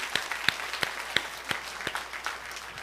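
Church congregation clapping in scattered, uneven claps rather than a dense ovation, individual hand strikes standing out against a quiet room, fairly distant and moderate in level.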